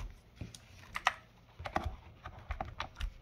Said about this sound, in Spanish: vamos a quitar aquí una de las teclas